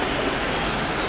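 The inside of a Korean subway train fills with loud, steady rumble and broadband rolling noise, close and constant, with no clear voices above it.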